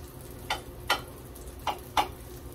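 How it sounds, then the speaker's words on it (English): A fork pricks potato scone dough four times in an uneven rhythm, each a short, crisp tap close to the ear against a quiet kitchen background. "So now I'm gonna prick it with a fork."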